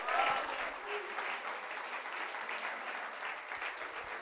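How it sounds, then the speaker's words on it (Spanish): Congregation applauding during a church service: a soft, steady wash of clapping hands heard from some distance, continuous and fairly faint, with no speech over it. "Dele un aplauso al Señor"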